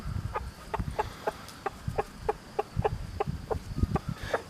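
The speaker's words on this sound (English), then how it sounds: "Those are happy clucks, happy chickens." Hens clucking by a small homemade chicken coop on a farm, a steady run of short, evenly spaced clucks at close range over low rustling outdoor background.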